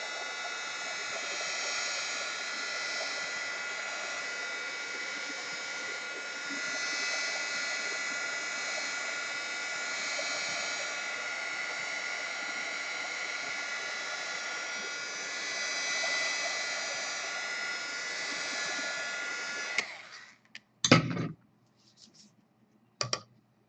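A hair dryer blows steadily for about twenty seconds, drying paint on a piece of artwork, a broad continuous whoosh that cuts off abruptly and is followed by a few brief clatters and knocks.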